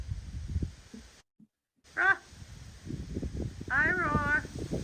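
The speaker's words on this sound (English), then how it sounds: "the best dog that ever lived" A pet dog whimpers with high, wavering whines in short bursts near the mic, over steady background noise and a brief dropout.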